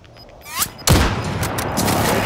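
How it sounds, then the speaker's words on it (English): A precision airstrike explosion in the video game Call of Duty: a sharp descending whistle followed by a heavy booming blast that rolls into a sustained loud rumble. "Friendly precision airstrike inbound."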